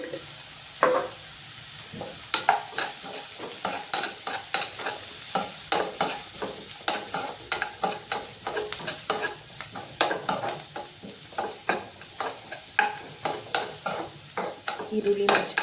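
Onion and chili with turmeric frying in a pan, stirred with a steady run of scraping strokes over a continuous sizzle, close and fairly loud throughout.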